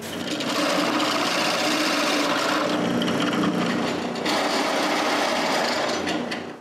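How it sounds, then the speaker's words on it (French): A drill bores a screw-head hole into a small round wooden box, giving a continuous loud buzzing, rasping grind that runs steadily for several seconds with a brief dip midway. "je perce un trou au-dessus pour la tête de la vis"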